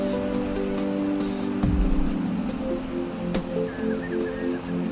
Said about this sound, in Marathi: खूप पाऊस पडतोय